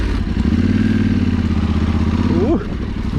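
A Honda CRF 300 L dual-sport motorcycle rides off-road, its engine droning steadily and close throughout, with a brief vocal exclamation near the end.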